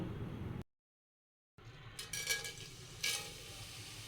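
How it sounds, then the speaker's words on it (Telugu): Masala spice paste frying in oil for Telangana bagara rice and mutton curry makes a steady close sizzle. A short silent gap follows, then the sizzling resumes with stirring scrapes and a few utensil knocks. "ఆ మసాలా ఆయిల్లో ఒక టూ సెకండ్స్ ఫ్రై అవనివ్వాలి ఫస్ట్ నేను ఈ మసాలా వేస్తాను"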